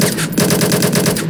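Rapid automatic gunfire in a naval raiding video game, a loud, fast string of evenly spaced shots rattling without pause through the short clip, with no talking over it.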